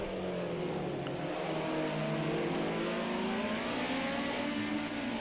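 Race cars at a circuit racing event, braking and accelerating through a turn, with a continuous loud engine drone and shifting pitch as they slow and pull away, heard alone without talk.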